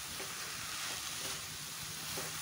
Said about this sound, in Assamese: 3 চামুচ মই পাউডাৰ গাখীৰ দিছো আৰু সকলোখিনি ভালকৈ লৰাই দিম।